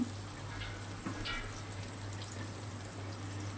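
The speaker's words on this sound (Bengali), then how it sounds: "কয়েকটা কাঁচা লঙ্কা দিয়ে দিচ্ছি" Green chillies drop into a simmering katla fish curry with water in the pan, a soft steady sizzle and bubbling with a few light splashes and stirring touches, close and moderate in level.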